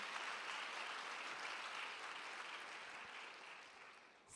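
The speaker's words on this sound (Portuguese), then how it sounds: "Um aplauso." An audience applauding at a documentary premiere fireside chat at UNESCO in Paris, a sustained, fairly distant wash of clapping that fades slightly toward the end.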